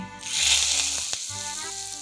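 A hot black mustard seed tempering is poured into coconut chutney, producing a close hissing sizzle that swells and then gradually settles, with a sharp tick partway through.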